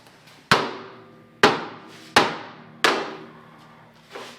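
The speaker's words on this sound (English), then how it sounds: "Where's that big sledgehammer that's always supposed to be right here?" A big sledgehammer striking the frame of a 6x6 truck. Five sharp metallic blows land at an uneven pace, each ringing out and fading before the next, and the last one is softer.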